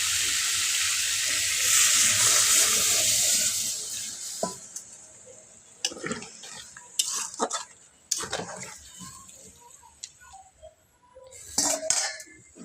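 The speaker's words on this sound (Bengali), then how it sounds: "এর মধ্যে দিয়ে দেবো পরিমাণ মতো পানি।" Water poured into a cooking pan of pumpkin and eggplant with fried ginger-garlic paste, a rushing pour and sizzle for a few seconds, then scattered clinks and scrapes of utensils against the pan.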